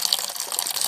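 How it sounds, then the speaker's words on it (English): Water drawn off a home-brew mash tun for a Harpoon IPA clone real ale runs in a steady, close hiss and splash of flowing liquid with no pauses. "Let's draw off the first bit of water. This is just the water that's been sitting in the mash tun."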